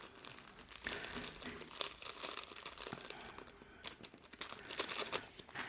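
A plastic bag of shredded paper from a shop-bought slime kit crinkles and rustles continuously up close as it is worked open, with a steady crackling texture and a few louder crunches.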